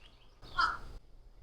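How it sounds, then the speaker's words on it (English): A single crow caw outdoors, fairly faint and brief, rising over a quiet workshop background. "I hear you, Crow."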